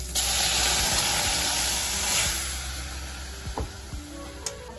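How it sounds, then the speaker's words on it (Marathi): Moth beans (matki) fry in a pan for misal, giving a steady, loud broadband sizzle and hiss that eases slightly toward the end, with a few faint clicks near the close. "मिसळ चालण्यात आपण मटकी छान फ्राय करून घेऊया."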